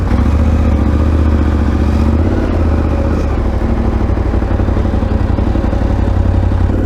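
KTM 1290 Super Adventure R motorcycle ridden off-road on a trail, its engine droning loud and close without pause, with rattling clatter and rough buzzing from the terrain throughout.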